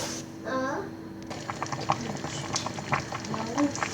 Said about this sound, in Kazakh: Бұрышымыз қайнай бастады